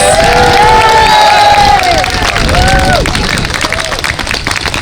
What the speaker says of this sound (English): Can we have another round of applause for John Vale, please?